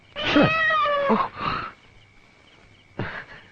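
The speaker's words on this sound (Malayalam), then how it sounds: "സാരമില്ല, പൂച്ചയാണ്." A cat lets out a drawn-out meow followed by a shorter one, then a brief faint tone and another short cry after a pause.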